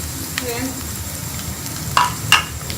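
Cumin seeds fry with onions in hot oil, giving a steady soft sizzle with light stirring and a couple of brief scrapes near the end.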